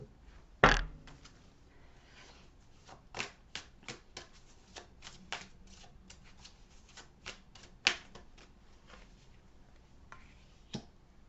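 Tarot cards being shuffled and drawn, with a loud riffle near the start followed by scattered crisp card slaps and flicks, close and dry, with no talking.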